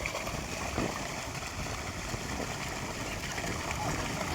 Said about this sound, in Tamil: மோட்டர்ல தண்ணி வருது.